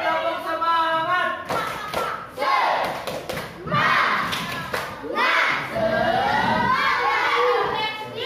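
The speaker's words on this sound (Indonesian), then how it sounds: "Kita ngasih semangat dulu, tepuk semangat." Schoolchildren in a fifth-grade class in Mataram do a rhythmic spirit clap, loud bursts of claps and thumps mixed with shouting and chanting voices that fill the whole stretch.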